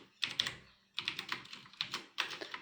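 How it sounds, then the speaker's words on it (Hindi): HTML code typed on a computer keyboard: close, crisp key clicks fall in four quick bursts separated by short pauses, with no speech over them. "तो यहाँ पे मैं एक बार इस कोडिंग को टाइप कर देता हूँ इसके अंदर"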